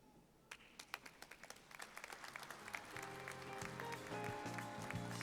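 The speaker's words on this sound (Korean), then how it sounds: "큰 박수 부탁드립니다." Applause from a seated audience at a university degree ceremony, starting as scattered claps and swelling into sustained, dense clapping, with tonal music entering underneath midway.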